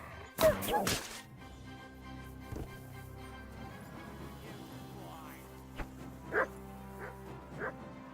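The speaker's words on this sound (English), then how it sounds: "Oh, I'm so sorry, Mutt. Oh no, now he's running away." A dog in Kingdom Come: Deliverance 2 lets out a loud bark, then a few scattered yelps and whimpers, with game ambience underneath.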